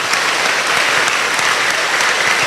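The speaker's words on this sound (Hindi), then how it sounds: "जोर से तालियां बजाकर प्रभु धन्यवाद जी।" Enthusiastic clapping from a congregation at a Hindi Christian prayer meeting in Naigaon, a continuous, even wall of applause that stays loud and close throughout, with no voices.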